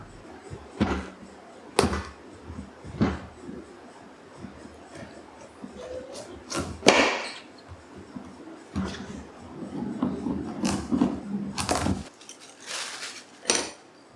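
A knife cuts and peels a raw pumpkin on a board, with irregular sharp knocks and scraping strokes, close and moderately loud, separated by quieter pauses.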